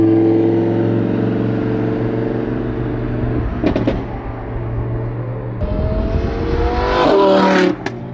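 A BMW G80 M3 engine roars loudly and steadily nearby, with a rising rev swell toward the end before cutting off abruptly.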